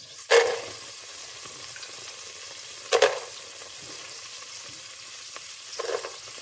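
Cashews in ghee for restaurant-style ghee rice, stirred in a pan with a steady low sizzle and three sharp scraping spoon strokes at intervals, close and fairly loud, with no talking.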